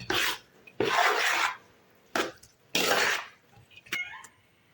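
Green peas biryani is mixed with cooked rice in a pot, giving loud scraping and rubbing strokes of a spoon against the pot in several bursts, then a few lighter clinks, with no talking.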